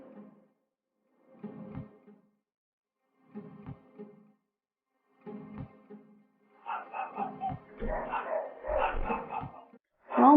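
Dogs bark at night, caught by a security camera in San Vicente, Chicoloapan, Mexico: single distant barks spaced about two seconds apart, then a closer flurry of overlapping barks and yips.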